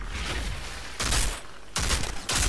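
Shotgun fire in the Outriders video game, heavy blasts arriving in loud bursts of roughly one second each, close and dense, with no talk over them.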